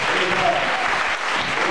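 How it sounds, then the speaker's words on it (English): Church congregation applauding during a service, a dense, steady wash of clapping at close range with some voices mixed in throughout. "Give him a big round of applause."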